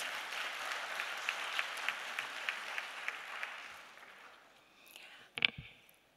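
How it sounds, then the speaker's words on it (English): A crowd claps steadily at a distance, the applause fading out before a few sharp knocks and rustles up close. "Let's give them a big round of applause."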